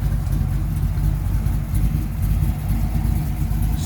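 A 1955 Chevy 210 coupe hot rod with an LS engine burbles through its exhaust at idle, a loud, lumpy low rumble with an uneven pulsing beat, close by and continuous.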